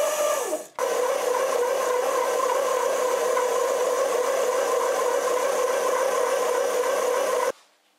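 An electric mixer kneads brioche dough at a higher speed, giving a steady, loud motor whir with a droning hum. It runs unbroken for about seven seconds and cuts off abruptly at both ends, with no talking.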